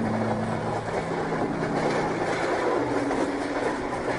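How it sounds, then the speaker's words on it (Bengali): A train running along, heard as a continuous rumbling rattle with steady clickety-clack and faint high squeal, sustained from start to finish with no talking. "ট্রেন চলেছে যেন ঢিকির ঢিকির করে"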